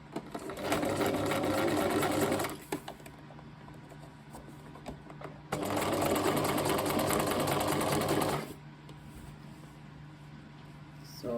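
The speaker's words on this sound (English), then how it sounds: "So that's how you are going to sew it." A sewing machine stitches a straight seam along folded fabric in two steady bursts of about two and a half seconds each, close and moderately loud, with a quiet pause between them.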